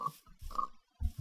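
Pig oinks from a blocky survival video game, three short grunting calls spaced about half a second apart, close and moderately loud with brief gaps of silence between them.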